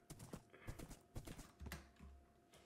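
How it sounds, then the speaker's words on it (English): Horse hooves clip-clopping in a video game, a quiet, uneven run of soft thuds and taps as the horse is moved a short way, with no talk. "I'm quickly gonna move my horse"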